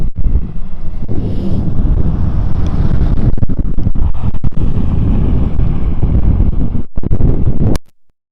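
Heavy wind buffeting a microphone on snowy Dartmoor near Princetown, a dense continuous low roar with gusty thumps for most of the clip, cutting off abruptly near the end.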